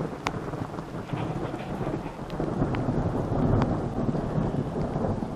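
Thunderstorm rolling over a forested hillside near an old silver mine cabin, with steady rain hissing throughout and low thunder rumbling continuously beneath, swelling louder toward the end; no voices.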